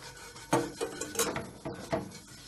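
A frying pan wiped with a tissue before frying pancakes, giving a few soft scraping and clattering knocks of metal cookware at irregular intervals, close by.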